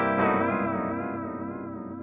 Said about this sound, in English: Now you can hear there's some LFO happening in the background,